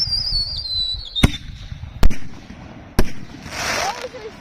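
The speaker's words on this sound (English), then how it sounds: "Those are some big booms." Canister shell fireworks from a pyro comparison, three sharp, loud bursts about a second apart over crowd murmur and a whistling rise, then a crackling trail near the end.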